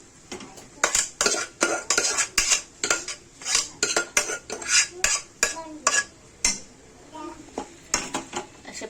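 Boiled potatoes are mixed in a pan with a metal spoon, close, rhythmic scraping and clanking strokes in quick succession, with faint talk in places.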